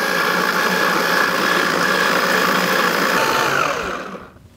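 Blender grinding tomatoes, garlic and onion into a smooth puree: a loud, steady motor whir held close up for about four seconds, then winding down at the end, no talking.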